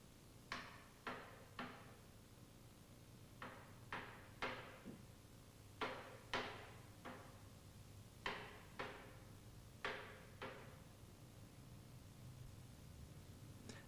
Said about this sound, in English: Tap the angular bearing case with a plastic hammer and set it in evenly.